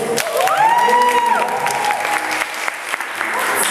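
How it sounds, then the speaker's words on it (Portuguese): A group bursts into loud, continuous applause mixed with cheering, while a voice rises and falls over the clapping near its start and the crowd noise carries on steadily. "Só dá uma salva de palmas pra ele"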